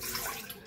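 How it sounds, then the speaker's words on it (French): Water poured with yeast into a bowl for kebab bread dough: a brief, quiet splashing pour lasting under a second. "nous allons mettre... L'eau et de la levure."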